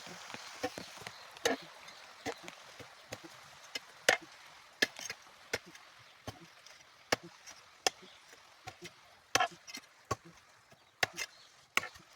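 A pit is dug into hard laterite stone in a home yard for a coconut sapling: irregular sharp chopping strikes ring out one after another, close and fairly loud, over a soft wet background hiss.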